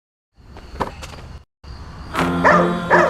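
A dog barks in short, sharp bursts, a few quick yaps then louder barks, close by with some background noise.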